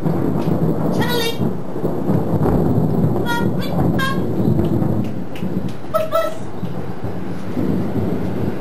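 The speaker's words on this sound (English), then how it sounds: "you can hear the rain coming" Heavy rain roars steadily during a lightning storm in Singleton, Western Australia, while deep thunder rumbles underneath, with a few brief high tones breaking through near the middle.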